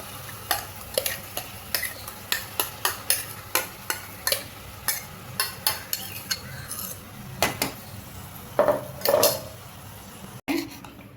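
Ground masala paste roasts in a tablespoon of oil in a pan, a low steady sizzle under a busy series of metallic spoon scrapes and taps as it is stirred, fairly close, with no talking.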